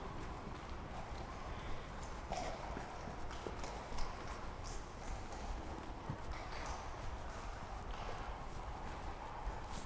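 A five-year-old horse's hooves clip-clop at a steady gait across a soft surface, moderately distant, under a constant outdoor background hiss.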